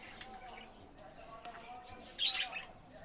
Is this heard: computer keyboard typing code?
no